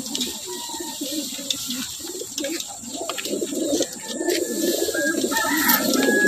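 Racing pigeons coo repeatedly in soft, throaty bursts close by, overlapping one another in a steady rhythm, with faint chirps and background voices mixed in.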